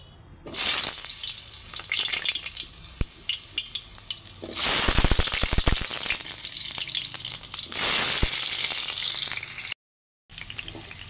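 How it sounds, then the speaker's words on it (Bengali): Pumpkin pieces fry in a pan with a loud, steady sizzle that swells in hissing bursts as pieces go in or are stirred, close up with no talking, and it cuts off briefly near the end. "আগে আমি কুমড়োগুলো ভেজে নেব।"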